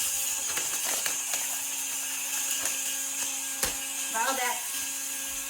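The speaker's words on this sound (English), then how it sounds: "I'm gonna take a 1/4 cup of flaxseed, put it in my blend jet." BlendJet blender grinding a quarter cup of flaxseed, a steady high buzzing whir that runs throughout at moderate level, with brief talk over it near the end.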